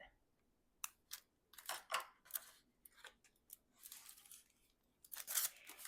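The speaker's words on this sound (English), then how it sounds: "just take my scissors and snip it." Scissors snip thread in a quiet room: a run of crisp, close cuts and small paper-handling sounds, sparse at first and then bunched together near the end.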